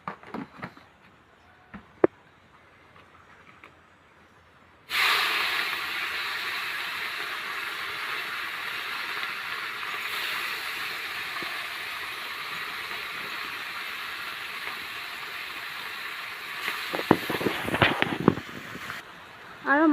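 Bitter gourd dropped into hot oil, a loud steady sizzle that starts abruptly and hisses on without a break, with some clattering near the end.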